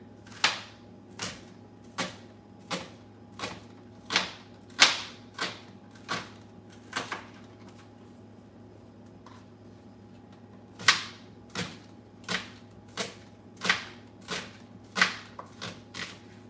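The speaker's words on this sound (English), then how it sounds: "half and peel and thinly slice the onion" Knife slicing an onion thinly on a cutting board, a steady series of sharp crisp chops close by, pausing briefly midway, over a low background hum.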